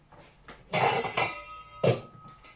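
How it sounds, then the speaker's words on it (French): A metal lid set onto a cooking pot while making spinach and parmesan lasagne, giving three sharp clattering clinks spaced apart, close and moderately loud with quiet pauses between. "on va mettre un couvercle dessus"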